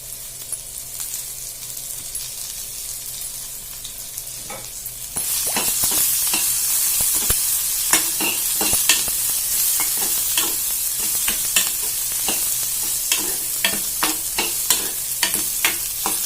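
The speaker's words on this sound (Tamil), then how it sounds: "இது நல்லா வதங்கட்டும், காமிக்கிறேன்" Onion and green chillies sautéing in a pan give a steady sizzle that jumps louder partway through, with repeated scraping and tapping of a spatula stirring close by.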